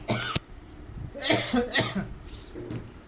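Several short, sharp coughs close to the microphone, coming in quick bursts over a few seconds.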